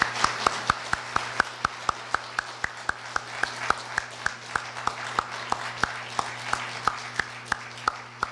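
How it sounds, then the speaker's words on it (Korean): Slow, steady rhythmic clapping at a Korea University lecture, welcoming the Russian Federation Council chair to the podium: evenly spaced sharp claps about every third of a second over a low hum, moderately close. "뜨거운 박수로 환영해 주시기 바랍니다."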